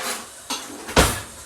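A metal spoon clinks against a pot of simmering homemade turkey spaghetti sauce: two short, close knocks about half a second apart, the second louder, over a soft kitchen hiss.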